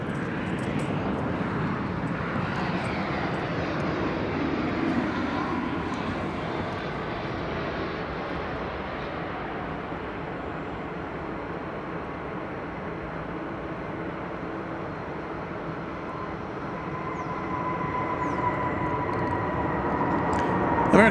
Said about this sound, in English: American Flight 1034 arriving from Guadalajara, Mexico. The 737-800.